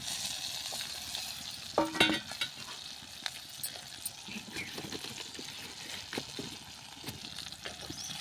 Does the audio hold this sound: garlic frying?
yes